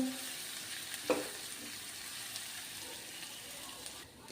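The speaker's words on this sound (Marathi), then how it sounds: "हिरव्या मिरचीची पेस्ट तर व्यवस्थित ही परतून घ्यायची आहे" Green chili paste sautés in a pan for Shegaon kachori filling, giving a faint, steady sizzle with a single stir or clink early on and no voices.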